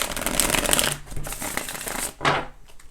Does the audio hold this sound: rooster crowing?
no